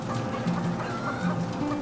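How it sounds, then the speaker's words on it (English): Egg-laying hens in a barn cluck softly and steadily, a busy overlapping chorus of many birds with occasional higher calls, continuous and fairly close. "There's a distinct sound your chickens make when they're happy."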